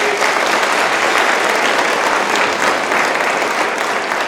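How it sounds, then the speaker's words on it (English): Audience applause at a school concert, steady, dense clapping from a large crowd, loud and continuous from start to finish. "I'll give them a big round of applause."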